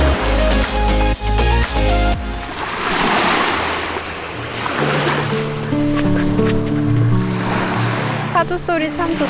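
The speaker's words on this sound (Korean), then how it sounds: "파도 소리 참 좋다." Ocean waves wash onto a beach during a camping festival, a broad rushing surf with some wind noise, heard alongside people talking and a few tonal sounds.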